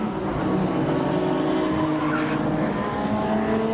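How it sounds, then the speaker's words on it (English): Classic touring racing cars lap during an All Comers qualifying session with the Classic Touring Car Racing Club, engines roaring steadily and close with a dense rasping blend that hints at tyres squealing. "I can hear the tyres squealing"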